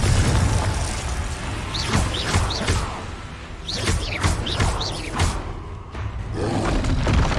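Confringo blasting curse explosions sound in Hogwarts Legacy, heavy booms and thuds repeating over a dense, loud rumbling game soundscape with whooshing bursts throughout.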